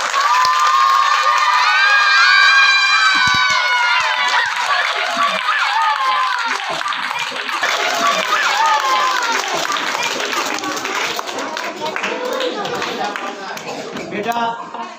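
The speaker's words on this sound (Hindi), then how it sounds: "इनके लिए भरपूर तालियां।" Students in a school audience cheer and shout loudly with scattered clapping, a dense crowd roar with high children's voices that stays strong throughout.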